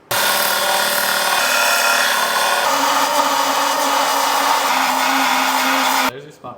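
A bracket is ground off a BMW Alpina B6 2.8 E30, making a loud, continuous abrasive grinding roar that holds steady for about six seconds, then stops abruptly.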